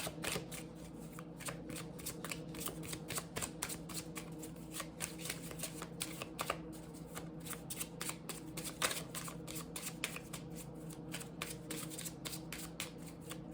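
Spanish playing cards shuffled for a tarot reading, a quiet continuous run of rapid riffling flicks and soft card snaps, close and steady throughout without speech.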